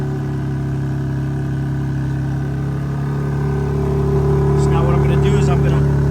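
A Pontiac G8's engine idles with its SST exhaust valves closed, a steady, muffled low rumble that swells a little toward the end, with voices talking over it.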